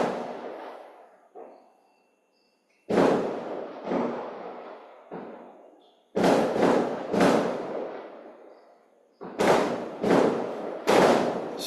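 Firecrackers at Govardhan burst one after another, loud and close. Sharp bangs come singly and in quick clusters, each fading into a rumbling decay, with short silences between volleys.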